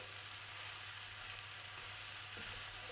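Sliced mushrooms cook down in a hot pan with salt and black pepper, giving a steady, close sizzle and crackle with faint stirring scrapes, no voices.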